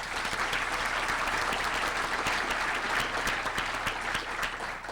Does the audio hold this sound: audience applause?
yes